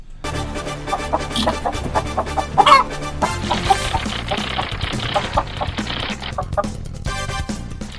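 Hens cluck steadily over a busy background of music-like rhythmic sound, the clucks close and fairly loud, with a louder squawk partway through.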